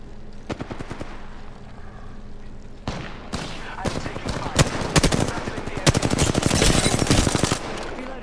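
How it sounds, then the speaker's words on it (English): Rapid bursts of automatic gunfire in the battle-royale video game Apex Legends, loud and close, with dense overlapping shots and sharp single reports growing busier over several seconds. "I'm being shot at"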